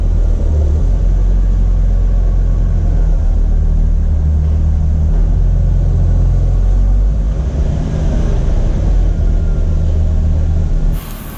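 A long-neglected Audi project car, stationary for over ten years, moves under its own power: a steady, loud low engine rumble with a dense drone that stays constant throughout, then cuts off abruptly at the end. No talking.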